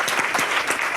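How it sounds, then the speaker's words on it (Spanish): Strong, steady applause from an audience welcoming a guest at a masterclass event, dense clapping filling the whole moment with no pause. "vamos a empezar con un fuerte aplauso a nuestro invitado."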